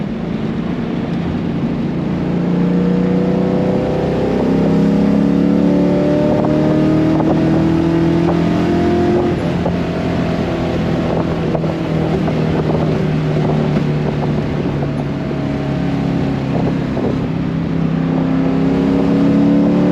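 A car engine with an exhaust leak drones loudly and continuously with a rough, raspy exhaust note, pitch rising and falling slightly as it revs, recorded up close.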